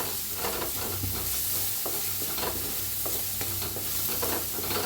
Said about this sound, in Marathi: हळदीला बी भाजून घ्यायचं